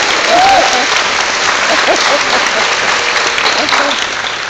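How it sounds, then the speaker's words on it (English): Steady applause from an audience at a shellfish festival cooking demonstration, broad and continuous for several seconds with scattered voices mixed into the clapping. "And a little round of applause."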